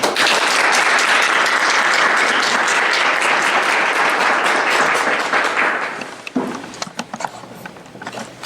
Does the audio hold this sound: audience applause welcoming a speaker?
yes